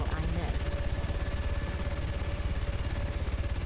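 A KA-60 helicopter in a combat video game drones steadily with a rapid rotor chop and engine whine, loud and continuous, with faint voices underneath.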